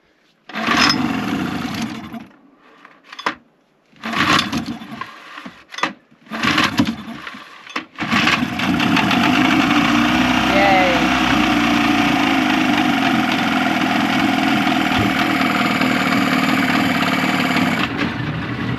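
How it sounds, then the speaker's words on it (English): A boat's outboard motor, one that is hard to start and prone to overheating, makes a few stuttering start attempts and then catches, running loud and steady for the remaining ten seconds. "basically the motor doesn't want to start, and once it does start, it overheats"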